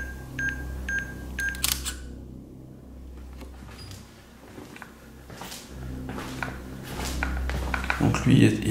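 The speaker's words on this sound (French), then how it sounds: "Je vais prendre une photo." Camera shutter clicking in a kitchen during a paranormal investigation, several sharp mechanical clicks close by, mixed with handling noises, a low hum and bits of speech.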